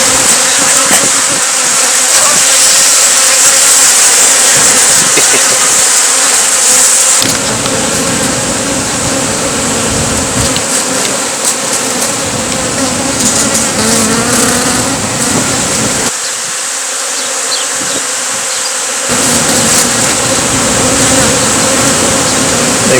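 A swarm of bees buzzes loudly and continuously around a hand outdoors, a dense high droning hum that dips and swells slightly over the length of the recording.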